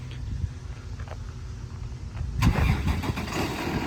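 A 2016 Freightliner M2 tire service utility truck with a 6.7 Cummins turbo diesel cranks and fires up partway through, settling into a loud, rough, close idle.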